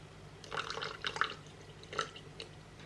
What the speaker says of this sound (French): On met les 60 g d'eau.